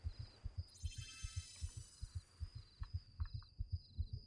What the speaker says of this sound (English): I remember hearing the heartbeat sound when my, like, temple was in danger